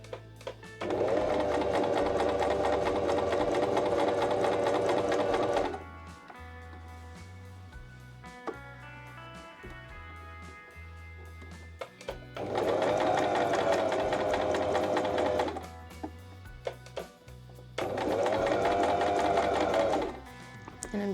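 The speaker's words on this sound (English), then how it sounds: "we're just going to stitch along this line" Stitching a dart on pants, a sewing machine runs in three separate loud bursts, each a few seconds long, with quiet gaps of handling noise between them.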